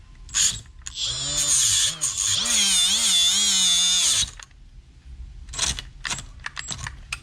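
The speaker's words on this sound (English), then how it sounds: "is just use my cutoff wheel" A cutoff wheel slices through rubber and nylon on a 1978 Buick Skylark project car, giving a loud, close, wavering high whine for about three seconds, followed by a few short, quieter scraping bursts.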